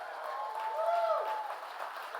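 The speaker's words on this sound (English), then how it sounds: "So would you give them a big round of applause?" Audience applause at a presentation: a steady wash of clapping that lasts the whole stretch and swells slightly midway, with a faint tonal whine riding over it.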